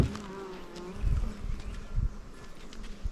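Bees buzzing around a weak hive being strengthened by a beekeeper, a close, steady insect drone that swells in a few louder passes as individual bees fly near.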